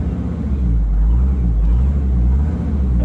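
A 2.5 liter Mercedes diesel engine in a restomodded 250GD Wolf with a 4-speed manual runs at idle, a loud, close, steady low rumble with no talk.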